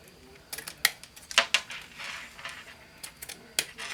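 Scissors snip a ribbon bow at an angle while a wine glass snow scene is being crafted, giving several quick, sharp, close clicks and crisp cuts spread through a quiet moment.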